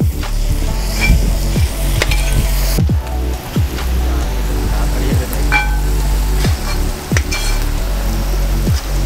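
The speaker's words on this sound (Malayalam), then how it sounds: "കുറച്ച് കറിവേപ്പില എടുക്കാം, അതിലിടുന്നുണ്ട്. എന്നുവെച്ചാൽ അത് നന്നായി ഫ്രൈ ആയി കിട്ടും." Sliced onions and curry leaves fry loudly in a pan for pepper chicken, with a dense sizzle and crackle throughout and regular scrapes and knocks of a spatula stirring them.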